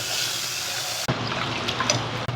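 Split moong dal (siru paruppu) is rinsed in water for a murungai keerai kuzhambu, with a steady rush of running water that cuts off, followed by soft sloshing and splashes.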